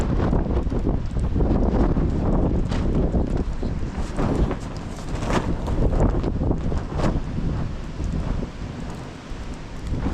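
A tarp shelter is buffeted by strong winter wind: a loud, continuous rushing roar with uneven gusts and flapping that lasts the whole stretch, with no talk.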